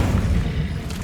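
Incendio fire spell cast repeatedly during a dark wizard battle in Hogwarts Legacy, a low rumbling boom that stays steady and dense for its brief length with no voices over it.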